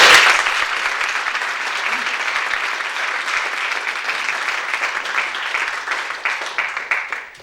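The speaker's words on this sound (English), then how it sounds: "Would you give a big round of applause," A theatre audience at a reopening ceremony after renovation applauds loudly and steadily, a dense wash of clapping that thins into scattered claps at the end.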